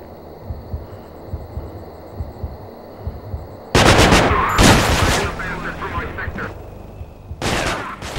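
Assault rifle gunfire in the stealth video game Manhunt, loud bursts of rapid shots starting partway through and returning near the end, with quieter game ambience and soft thumps before the first volley.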